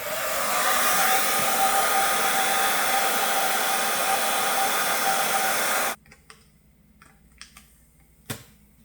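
A heat gun or hair dryer blows on a carbon fiber Tesla emblem on a 2025 Tesla Model Y, a loud steady whooshing roar that stops abruptly about two-thirds through, followed by faint taps and clicks in quiet.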